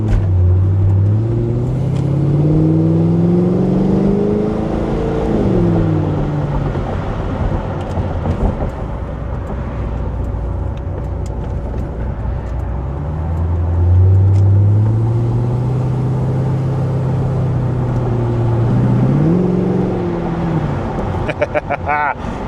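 A Corvette gets up to speed on an expressway, its engine droning steadily with rising pitch sweeps as it accelerates through gears, sustained road and wind noise underneath, heard from inside the car.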